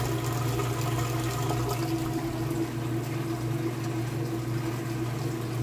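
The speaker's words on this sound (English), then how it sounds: "we're moving out of the wash cycle into the rinse cycle. You can hear it draining." A Kenmore washer pumps its water out at the start of the rinse cycle. The drain pump gives a steady hum under a continuous rush of water, even and unbroken from start to finish.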